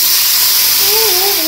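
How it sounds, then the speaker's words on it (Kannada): Rasam poured into a sizzling tempering of garlic fried red in ghee erupts in a loud, steady hiss of steam and spitting, close and unbroken, with a faint tonal sound rising near the end. "ತುಪ್ಪದಲ್ಲಿ ಬೆಳ್ಳುಳ್ಳಿ ಒಗ್ಗರಣೆ ಈಗ ಕೆಂಪಾಗಿದೆ. ಈಗ ಸಾರು ಹಾಕುವಾಗ ದೂರ ಬನ್ನಿ."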